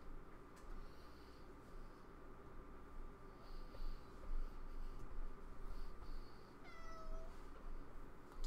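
Short meows from a cat named Mustache, faint and sparse, one clearer call near the end, over a low steady hum in a quiet room.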